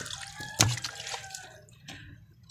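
Water poured onto a potted plant: a close splash and trickle with a sharp pour onset, then a fading stream of drips and dribbles.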